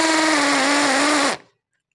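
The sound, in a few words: Nanwei cordless impact drill drilling hard material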